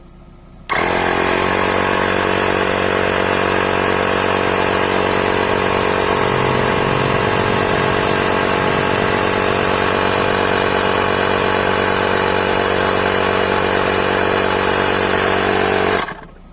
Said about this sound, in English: So just to fill up, let's on the Tyre Inflator.